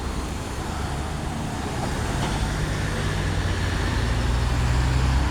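Continuous roar of a line of cars moving in traffic, a dense steady rumble that swells slightly louder as vehicles pass close by, with no talking.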